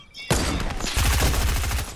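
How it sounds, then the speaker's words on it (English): Video game gunfire, a sudden burst of rapid, heavy shots that breaks into a dense fusillade with a booming low end, loud and close, continuing for nearly two seconds without talk. "Yeah, I heard gunshots."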